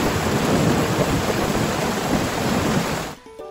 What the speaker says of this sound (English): We got thunder.